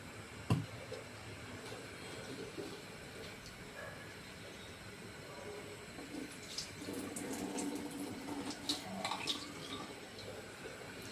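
Soaking water drained off rice and dal in a home kitchen, a steady wash of pouring and splashing with a few sharp clinks of a vessel, close by and moderately quiet.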